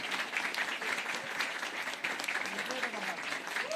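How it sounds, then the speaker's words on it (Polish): Steady, even applause fills the room at an election night event, a broad wash of many hands clapping at moderate distance without pause. "Wielkie brawa, Arek."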